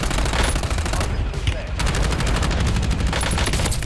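Rapid automatic gunfire in Call of Duty Warzone, loud dense bursts of shots rattling close with a brief lull in the middle, a voice talking faintly underneath.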